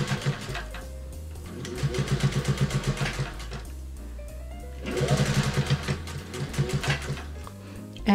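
A sewing machine stitches up the holes in a fluffy guinea pig cuddle cup bed, running in two loud bursts of rapid, even needle strokes with a short pause between them and no talking.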